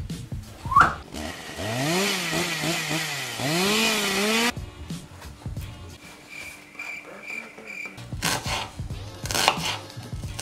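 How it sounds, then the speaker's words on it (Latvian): A knife saws through a crusty baguette in a kitchen, rough rasping strokes heard close, mixed with whistle-like tones and musical effects that cut in and out. "Sagriežam bageti."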